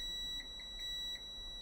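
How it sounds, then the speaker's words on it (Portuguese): Short electronic beeps from a multimeter in continuity mode, probing a coil on a mobile phone board: four or five brief tones at an irregular pace, fairly faint over a steady hum, with no talking. "Bobina bipa, porque ela é resistência baixa."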